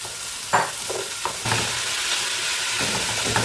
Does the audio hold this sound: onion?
yes